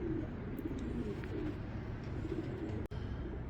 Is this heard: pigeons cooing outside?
yes